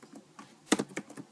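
Keys on a computer keyboard are tapped during work in Figma, giving a handful of quiet, close clicks at an uneven rhythm with one sharper stroke in the middle.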